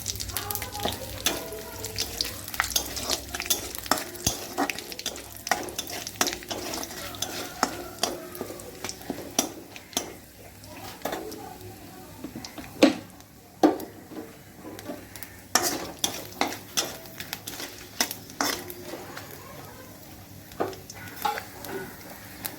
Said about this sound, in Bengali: তেলটা হালকা গরম হয়ে গেলে এবার উপরে ফোড়ন দিয়ে দেবো।